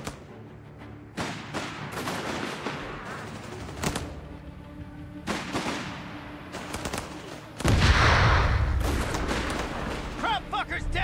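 Rifle and machine-gun fire in the World War II strategy game Company of Heroes 3, sharp shots in irregular bursts and single cracks, then a louder rumbling barrage near the end, with occasional voices between.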